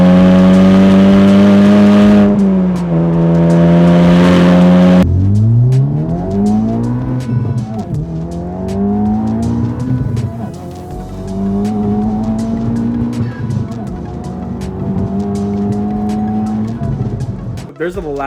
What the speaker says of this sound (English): For this FL5 Civic Type-R, we have our PLM full titanium valve exhaust.